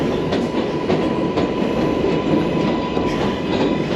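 An express subway train runs steadily along the tracks in the United States, a loud, continuous rumble with rhythmic wheel clatter and a faint squeal, close and constant throughout without any talk.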